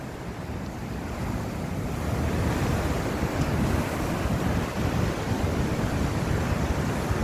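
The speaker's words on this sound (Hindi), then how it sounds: "पानी बहुत तेज है।" Strong, fast-flowing river water rushes in a continuous, loud, broadband roar with some wind buffeting, steady throughout with no voices.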